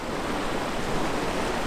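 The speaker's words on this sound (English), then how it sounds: "It's a very strong flow of water." Strong floodwater flowing through a channel in Western Australia's Eastern Wheatbelt after record rainfall, a dense, continuous rushing roar, close and loud, with no voices.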